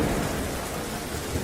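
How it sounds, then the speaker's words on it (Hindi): Light rain falls steadily with rumbling thunder on a stormy, windy night, a dense continuous wash of drops and low roll throughout, with no voices. "हल्की हल्की बारिश के साथ बिजली कड़क रही थी।"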